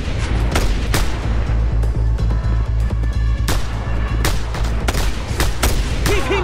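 Sustained cover gunfire in Just Cause 2, a dense, loud stream of rapid shots and sharp cracks that continues steadily throughout with no pause.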